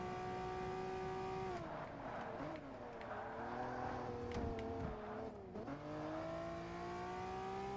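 Engine of a classic sports car in a Class B championship race in Forza Motorsport, revving loudly and continuously with pitch climbing and dropping through gear shifts, with faint tire noise and a voice speaking over it.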